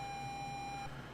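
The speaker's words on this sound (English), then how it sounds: "That's the alarm." An alarm clock in the 1986 DOS game Basic Computer Adventures gives a thin, steady electronic tone that holds for about a second before cutting off, quiet and alone.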